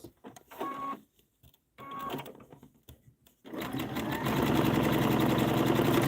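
Domestic sewing machine stitching fabric triangles and corners for a quilt star block, a few short whirring bursts separated by pauses, then a long steady run of rapid needle stitching, close and loud with no talking.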